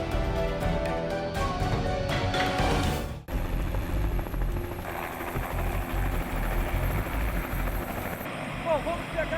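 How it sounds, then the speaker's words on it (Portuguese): A helicopter flies over the Itaipu dam and its huge lake, its rotor and engine making a loud, steady, close drone that fills the whole stretch. "vamos pegar agora o helicóptero e sobrevoar essa área de Itaipu"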